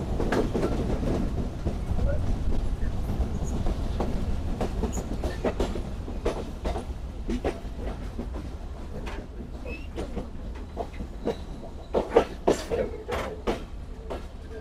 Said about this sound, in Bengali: আমাদের ট্রেন প্রবেশ করছে আরানি রেলওয়ে স্টেশনে